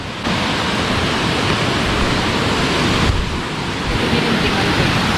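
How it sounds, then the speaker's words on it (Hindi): Rushing water from a waterfall at Fish Point in Mainpat roars as a dense, constant broadband wash. It stays loud and unbroken throughout. "ये वाटरफॉल चेक करो आप मन"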